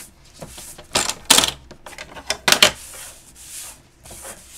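Cardstock being trimmed on a paper trimmer, with bursts of sliding and cutting scrapes and small knocks that come in quick, close passes and separate into several distinct strokes, with no talking.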